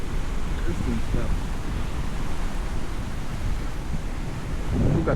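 Atlantic Ocean surf roars as a steady broadband wash, heard from a passing car with strong wind noise over the microphone throughout.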